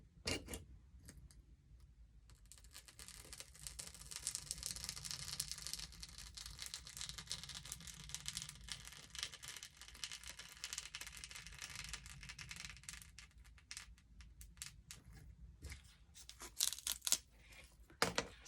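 Scissors snip and trim a small piece from a fake ice cream craft for a wall hanging, a run of close, dry tearing and crinkling cuts with soft papery rustles, no talking.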